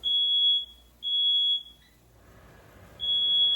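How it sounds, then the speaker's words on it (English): An apartment smoke alarm set off by cooking sounds loud, piercing beeps in a repeating pattern, two long tones, a pause, then another begins; close and clear with no talking. "my smoke alarm goes off every single time I cook."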